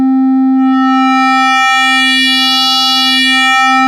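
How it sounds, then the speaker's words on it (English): A Frap Tools Magnolia synthesizer plays eight stacked sine waves with Thru-FM, a loud, steady sustained tone with bright harmonics, nothing else around it. "So as we initialize a patch, we hear 8 sine waves."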